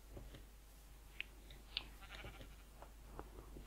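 Sheep in the video game Minecraft give a few short, scattered bleats over quiet game background noise, with no talking.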